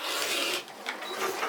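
A sewing machine stitches two fabric pieces together, a floor panel onto a wallpaper panel, and gives off a steady close mechanical whirr that dips briefly partway through and then resumes.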